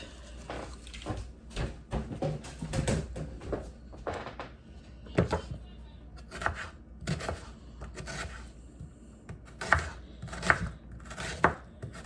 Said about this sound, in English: I'm going to finish dicing these